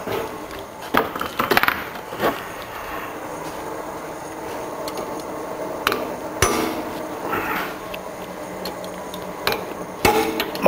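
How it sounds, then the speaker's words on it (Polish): Small hammer striking a metal stabilizer link bushing on a Mercedes Actros during hydraulic-press work, a series of irregular sharp metallic clanks spaced apart over a steady background hum. "Za mały młotek."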